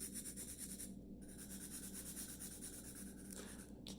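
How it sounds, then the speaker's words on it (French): Pencil colouring on paper while a face is drawn, a close, faint and steady scratchy rubbing with brief pauses between strokes. "Je peux toujours colorier ici."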